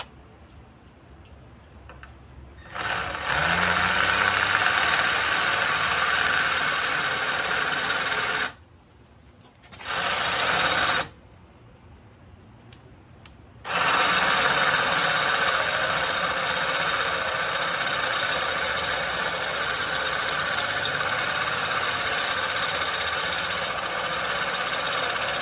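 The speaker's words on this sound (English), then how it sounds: "we're gonna have to drill these bad boys out" A drill bores out stuck bolts on the stock exhaust of a K4 GSX-R motorcycle, a steady high whine running in long bursts with short pauses between, after a quiet start.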